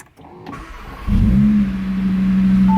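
A 2022 Audi RS3 engine cranks and fires up loudly on a cold start, revving briefly before settling into a steady, rumbling idle close by.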